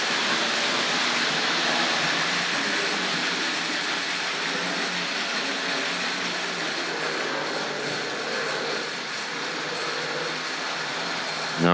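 A Hornby R.053 Princess Victoria model locomotive pulling British Railways coaches runs along the track, giving a steady, continuous rolling rumble and whir that holds at an even level throughout, with no talking.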